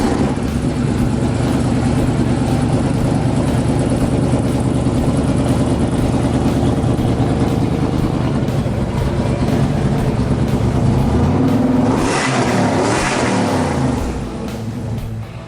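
Loud, steady engine roar from a 1970 Chevrolet C10 revving on a dyno at night in a residential area, holding high and then surging through a couple of rising and falling sweeps before easing off near the end.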